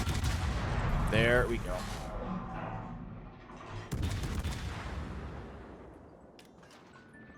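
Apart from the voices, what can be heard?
warship gunfire in World of Warships video game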